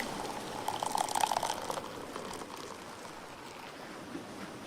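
Beer poured into a glass in the video game Dave the Diver: a short burst of liquid gurgling and splashing over a faint background hum, fading into quieter fizzing, with no voices.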